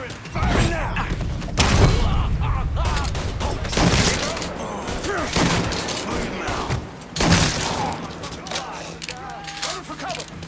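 Gunfire in the video game Mafia 3: a dense fusillade of bursts and booming shots, loud and close, with bursts around the start, middle and seventh second, and shouting voices over the shooting.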